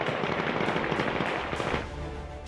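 Taliban fighters fire rapidly inside Kabul airport around midnight: a dense, continuous rattle of automatic gunfire, loud and sustained, thinning into scattered echoing shots after about two seconds.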